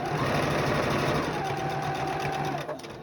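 A sewing machine chain-piecing quilt star blocks runs in one steady fast stitching burst, a close, even mechanical whir that slows and stops near the end.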